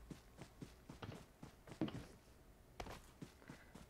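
Footsteps in the mobile battle-royale game PUBG Mobile on the Livik map, a steady run of soft, quiet steps with a faint low background hum.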